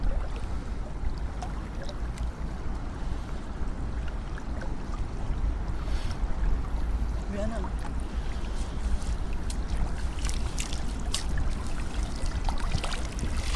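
A boat motor drones steadily on the water, a constant low rumble mixed with splashing and trickling water, continuous and fairly close throughout.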